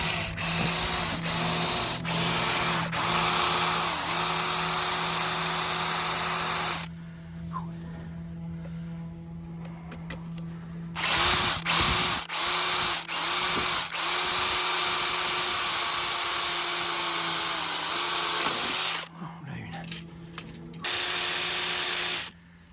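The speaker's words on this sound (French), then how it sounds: "Donc sur les conseils de Pascal, on va rajouter des trous et des vis pour fixer l'espèce d'étrier là, la tétière" Power drill boring screw holes into an aluminium sailboat mast fitting, a masthead bracket for the genoa: loud, steady whining runs broken by brief pauses and restarts, with a sustained hum throughout.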